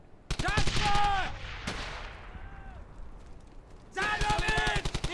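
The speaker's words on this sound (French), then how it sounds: "Zanovic, tire de suppression sur cette mitraille." Suppressing machine-gun fire in the WWII shooter Brothers in Arms: Hell's Highway: rapid, evenly spaced shots in two bursts, the later one more prominent, with someone talking over much of it.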